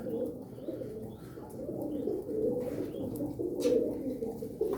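A flock of about eighteen pigeons or doves coos softly and continuously, low murmuring calls overlapping at moderate distance, with a few faint chirps mixed in.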